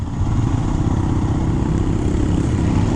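Royal Enfield Himalayan Scram 411, a 5-speed motorcycle, pulling away on the road with a loud, close, steady engine thrum and rumbling exhaust, heard alone without talk.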